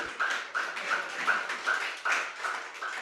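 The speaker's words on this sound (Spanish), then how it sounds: "Pero dale un aplauso al Señor" A church congregation clapping in a steady rhythm, close and fairly sparse, with about ten repeated claps and no talking.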